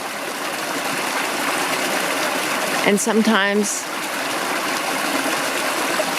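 A creek runs in a simple, gentle flow, a steady broadband rush of water heard throughout, with someone speaking briefly over it midway.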